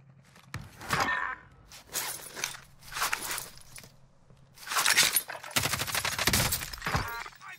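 Bursts of rapid automatic gunfire from Call of Duty Warzone come in several sharp clusters with short pauses between, loud and close with crackling impacts, no talk.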